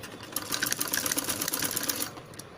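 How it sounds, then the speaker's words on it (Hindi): A sewing machine runs a quick, close burst of rapid, even stitching on net fabric and lining for a kids' party dress, then stops. "अस्तर की अस्तर पे स्टिचिंग करनी है और नेट के कपड़े की और नेट के कपड़े पे स्टिचिंग करेंगे।"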